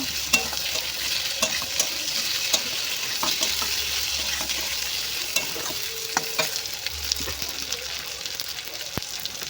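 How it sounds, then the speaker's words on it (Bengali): Raw banana and potato stirred and frying in oil with browned onions for a fish curry, a constant sizzle broken by repeated sharp spatula scrapes and clicks against the pan. "এবার কাঁচকলা আলু দিয়ে ভালো করে কেড়ে নেব"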